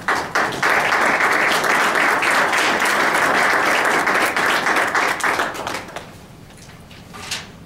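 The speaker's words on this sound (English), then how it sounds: "Please give them a round of applause." A city council chamber audience in Mason City applauds for several seconds, a full even wash of clapping that tapers off into a few stray claps and room noise.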